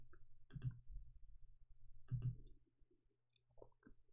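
Two crisp computer mouse clicks, about a second and a half apart, sound in an otherwise quiet room.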